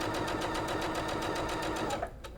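A sewing machine stitching quilt fabric along a marked line, a fast even mechanical whir with rapid regular needle clatter, close and steady, stopping abruptly near the end with no talk.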